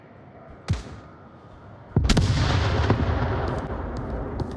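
A grenade explodes in Onward, a competitive VR shooter match, as a loud blast near mid-clip following an earlier sharp gunshot-like bang, with a rumbling burst of gunfire and debris continuing after.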